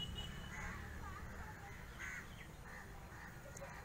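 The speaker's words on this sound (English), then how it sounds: "you can see a lot of birds in the middle of the lake" Crow-like cawing from birds at a lake, several harsh calls that carry faintly over steady low background noise and wind, somewhat distant, with no talk.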